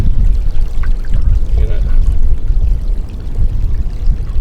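Water pouring out of a livestock water trough during a float repair, a loud continuous low gush and splash, with someone speaking briefly over it.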